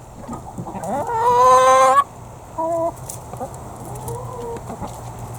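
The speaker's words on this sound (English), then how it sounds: "Here, chickens, I have some food for you." Chickens cluck nearby in a few bursts, with one long, drawn-out squawk followed by shorter clucks over quiet outdoor background.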